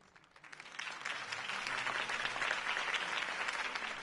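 Crowd applause from a political rally audience in Batman: The Telltale Series, building up from quiet into sustained, dense clapping that holds steady for several seconds with no voices over it.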